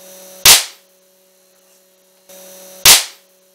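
A 2200 µF, 10 V electrolytic capacitor bursts twice under excessive voltage, each a sharp, loud bang preceded by a steady electrical hum, with the two pops about two and a half seconds apart and nothing else in between.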